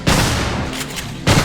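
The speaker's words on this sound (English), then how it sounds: "Shotgun." Two loud, booming shotgun blasts from the action video game Vanquish, one at the start and another just over a second later, with a rumbling tail between them.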